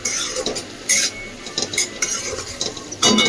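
Utensil scraping and stirring noodle masala in a pan, with intermittent clinks and scrapes in an irregular rhythm, close and moderately loud, no talking.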